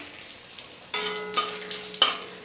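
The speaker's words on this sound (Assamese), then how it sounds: "প্ৰথমতে শুকান জলকীয়া কেইটা দি দিছোঁ, তেজপাত দিছোঁ" Dried red chillies and bay leaves frying in oil, a soft sizzle that sharpens into louder crackling bursts as they are stirred, close and without voices.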